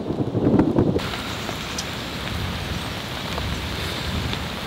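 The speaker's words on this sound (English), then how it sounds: "there's a storm rolling in" Rain and wind from an incoming thunderstorm make a steady, hissing wash outdoors, with a brief louder gusty rumble at the start, and no voices.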